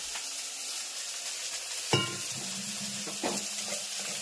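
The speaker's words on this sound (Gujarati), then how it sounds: "સરસ મજાનો વઘાર થઈ ગયો" Spices sizzle steadily in hot oil during a vaghar tempering for a pea curry, a continuous hiss interrupted by a couple of clinks of a utensil against the pan.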